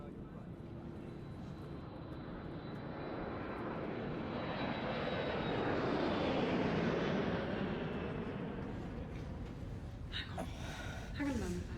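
Steady, loud airliner engine drone fills the first-class cabin in flight, swelling gradually and holding throughout, with faint voices underneath and a few brief clinks near the end.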